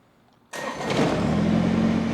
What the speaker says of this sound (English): we're just going to start the tractor